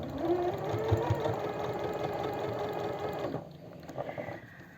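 Sewing machine stitching a folded seam on elastic fabric for a longsleeve top, running in a fast rattling burst of stitches close by, then stopping with a few faint clicks.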